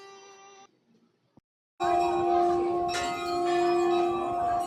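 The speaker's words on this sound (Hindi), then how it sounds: "मंदिर सैकड़ों घंटियों की गूंज से भर उठता है।" Bells ring at the Golu Devta temple in Nainital, a temple hung with hundreds of bells. A brief tone fades, then after a short silence a loud, sustained metallic ringing swells up and keeps going.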